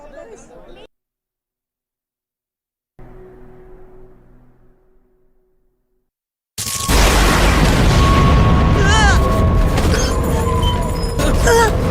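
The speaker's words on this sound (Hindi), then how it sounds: "कोई धमाका हुआ है या?" Attack on Titan anime scene: after quiet stretches with faint ambience, a massive boom erupts and becomes a sustained loud roar of explosion and rumbling debris, with crowd noise mixed in.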